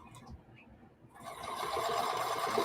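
A sewing machine stitches a fabric postcard, starting faint then rising into a steady close whirring hum of rapid stitching.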